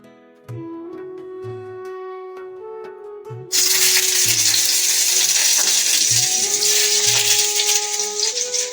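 Strips of potato and eggplant frying in hot oil for a fish curry, with a loud steady sizzle that starts abruptly partway through and continues up close, over quiet background music.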